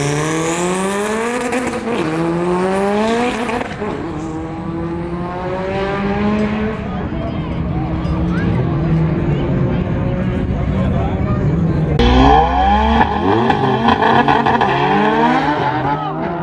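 A tuned import race car makes a drag pass at an Arizona import racing event, with loud, repeated rising engine revs broken by quick gear shifts and a brief tire squeal, while people talk nearby.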